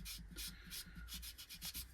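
A carved life-sized boxwood skull is sanded by hand with abrasive, giving close, steady back-and-forth rubbing strokes in a quick, even rhythm, with no talking.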